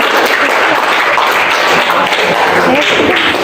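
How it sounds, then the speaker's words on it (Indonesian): Classroom applause for a student group during a teacher-training lesson, a close, dense patter of clapping hands held steady for a few seconds. "Silakan tepuk tangan buat kelompok Motherboard."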